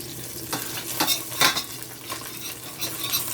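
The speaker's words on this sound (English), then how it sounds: "This pot is not very good for frying fish." Fish frying in a pot over high heat: a steady close sizzle with several sharp scraping and stirring strokes of a utensil against the pot, no talking.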